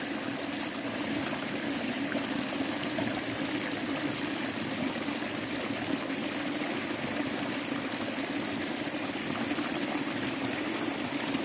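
Water streaming down from somewhere above at a lakeside camp on Seliger, a steady, continuous rushing trickle that holds evenly throughout with no voices.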